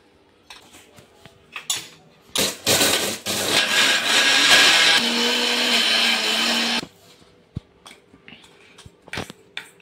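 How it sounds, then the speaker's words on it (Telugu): Electric mixer grinder powdering lentils with a pinch of asafoetida, running in short bursts and then a sustained loud whirring roar of about four seconds before stopping, with clinks and handling knocks before and after. "ఈ పప్పుల్ని కూడా మిక్స్ చేసి పొడి కొట్టుకోవాలి. దీనిలో చిటికెడు ఇంగువను కూడా మిక్స్ చేసి పొడి కొట్టుకోవాలి."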